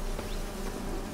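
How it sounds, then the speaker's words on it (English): A swarm of bees in The Witcher 3 video game hums as a steady, faint, even buzz throughout, with no voices. "So let's destroy the bees."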